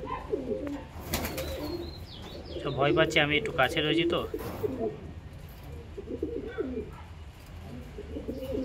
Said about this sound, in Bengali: দেখুন এই যে আমার টেডি কবুতর চলে এসছে